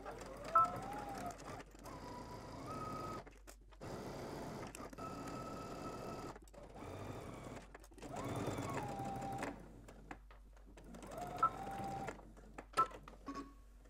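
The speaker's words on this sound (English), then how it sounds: "Now let's go ahead and head to the sewing machine. We're gonna start stitching at the bottom" A sewing machine stitches a 5/8-inch seam in fabric, running in several rapid whirring bursts separated by short pauses, close and fairly quiet.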